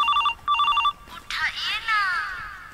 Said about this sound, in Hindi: रुक जा, फोन आ रहा काय को।